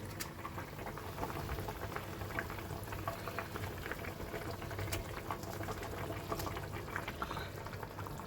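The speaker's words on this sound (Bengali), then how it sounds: "মাছের ঝোলটা আমার ফুটে গেছে" A pot of fish broth, with fried dorado pieces added, bubbles at a steady boil, a continuous soft crackling fizz with scattered pops, fairly quiet, with no talk.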